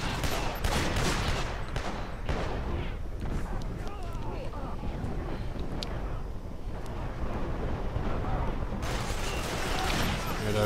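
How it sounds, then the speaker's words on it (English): Turret gunfire in Killzone 2 comes as bursts and heavy blasts over a dense battle roar, loud and continuous, with someone talking over it. "So right now I'm just running back and forth, trying to avoid that turret there."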